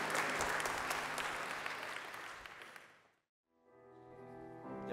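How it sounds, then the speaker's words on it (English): Guests applaud a newly married couple at a church wedding, the clapping loud and full at first and then fading away. After a short pause, sustained tones like music or singing begin. "A big applause for them."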